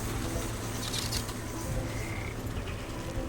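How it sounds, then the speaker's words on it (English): Swamp frogs croak in the Wytchwood video game, a dense, continuous chorus of low, rhythmic croaks close by, with faint higher chirps layered over it and no voices. "Yay, frogs."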